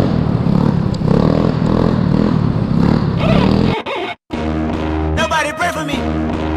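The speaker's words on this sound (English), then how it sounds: "Try to wheelie all the way up this thing right now." A fast motor scooter revs hard while wheeling uphill, a loud, rough engine roar with rattling that drops out briefly midway and then returns. A voice shouts over the second half.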